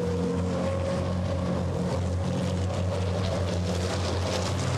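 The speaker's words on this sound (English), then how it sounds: "Tyre squealing, tyre roar, raucous engines." Racing trucks at the Hungaroring during a European Truck Racing Championship race, a loud steady engine drone with strong harmonic tones and broadband tyre roar filling the whole stretch without pause.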